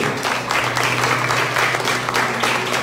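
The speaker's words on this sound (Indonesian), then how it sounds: "Yang setuju tepuk tangan" A church congregation at a Christmas service claps together, a full, steady burst of many hands that holds through the short stretch with a faint tonal hum beneath.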